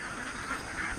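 Domestic ducks quack in a steady, dense chorus during an egg harvest, a brief continuous burst of nasal calls from a nearby flock.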